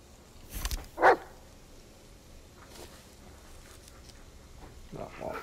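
A dog in the Blair Witch video game lets out a few short, close barks near the start, then quieter rustling and faint game ambience follow.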